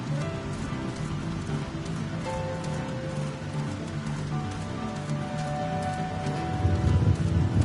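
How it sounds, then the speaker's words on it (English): Steady rain patters continuously on a surface in Final Fantasy XIV, with soft tonal music underneath and a low rumble swelling near the end. "is it always raining?"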